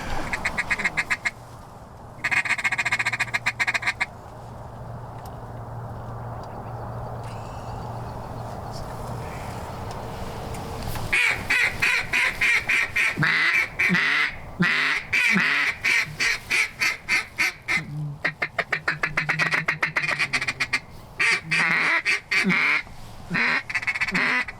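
Mallard ducks quacking outdoors on a Montana duck hunt, repeated raspy quacks in irregular bursts over steady wind or water noise, fairly close and loud.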